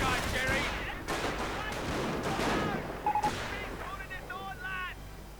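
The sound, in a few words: MG42 machine gun fire in a video game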